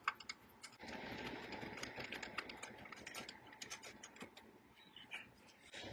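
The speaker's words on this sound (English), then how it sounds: "I'll stick a wrench on those and snug them up, 10mm." A 10mm wrench tightens speaker screws with quick clicking and ratcheting, a fast run of small metallic ticks over a faint mechanical whir, close and fairly quiet.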